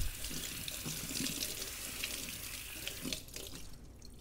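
A kitchen faucet runs steadily over canned black beans being rinsed, a close continuous splashing rush that eases slightly near the end, with no talking.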